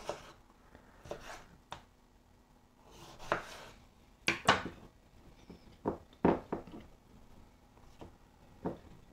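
A knife slices through pickled black radish in a quiet kitchen, giving a series of irregular, fairly close cutting taps and scrapes with pauses between them.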